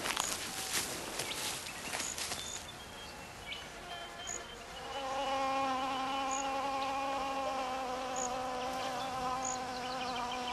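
A male wasp buzzes around an orchid flower, starting with scattered brief flight buzzes and faint clicks, then settling into a steady, sustained droning hum close to the microphone.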